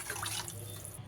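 Water poured into a pot of rice in a home kitchen, a brief steady splashing rush, close and fairly soft, with no talk.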